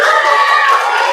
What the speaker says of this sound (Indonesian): Tepuk tangan yang gemuruh.